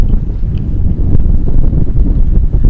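Strong wind of about 16 knots while under sail at sea, a loud continuous low roar buffeting the microphone for the whole stretch, with no voices.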